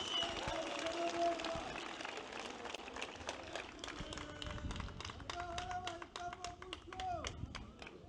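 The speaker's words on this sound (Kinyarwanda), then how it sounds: "Nagira ngo mubampere amashyi tubashimire." An audience at a political gathering announcing preliminary election results claps for allied parties. Dense applause of many hands rolls on steadily at a distance, mixed with crowd voices and some talk over it.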